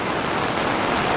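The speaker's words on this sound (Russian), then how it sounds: "А, ребят, что попали под дождь." Rain pours down outdoors at night in Koktebel, Crimea, a dense, steady patter hissing close by with no pauses, loud and even throughout.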